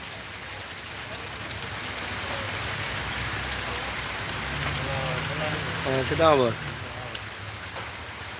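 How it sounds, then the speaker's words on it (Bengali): Heavy rain pouring steadily at night during a Kalbaishakhi storm in Sylhet, a dense continuous hiss on surfaces with someone speaking briefly over it near the end. "প্রচুর ঝড় বৃষ্টি হয়ে গেল"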